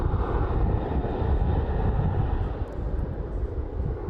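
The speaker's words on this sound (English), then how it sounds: "WestJet is going to Orlando, 737-800." A WestJet Boeing 737-800 jet airliner at Toronto airport gives a loud, steady, broad engine roar that holds nearly constant throughout, with no voices over it.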